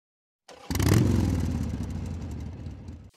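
A 2024 KTM 1290 Super Duke GT motorcycle starts up close by, catching with a sharp burst and then settling into a loud, throbbing idle that slowly eases off before cutting out.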